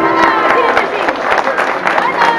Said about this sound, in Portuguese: também para receber os vossos aplausos fortes